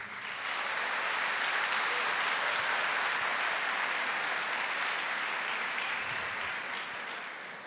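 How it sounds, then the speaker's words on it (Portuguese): A church congregation applauds during a sermon, with loud, dense clapping that rises quickly, holds steady for several seconds and then tapers slightly. No voices are heard over it. "Aplauda essa pessoa."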